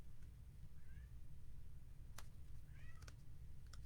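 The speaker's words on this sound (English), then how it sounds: "You can hear my cat at the top of the stairs meowing for Mommy." A pet cat meows from the top of the stairs, a few short, faint calls heard at a distance over a low steady room hum, with no talk.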